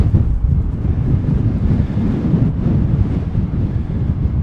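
Heavy wind buffeting the microphone beside a lake in the Black Hills of South Dakota, a constant low rumbling roar with gusty surges, loud and close, no voices.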